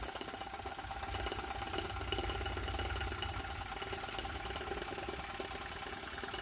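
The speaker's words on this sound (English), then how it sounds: "I don't particularly like to run my steam engines fast. I like to see them just ticking over" A small model steam engine fired by hand sanitizer gel ticks over at a steady, moderate pace, giving a faint continuous mechanical chuffing and rattle heard up close with no voices.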